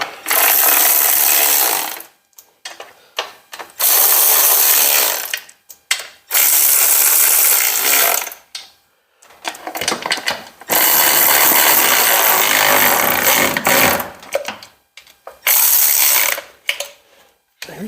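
A hand ratchet with a swivel extension turns a 7/16 socket on a 1957 car, giving repeated bursts of close, bright clicking separated by short pauses, with no talk.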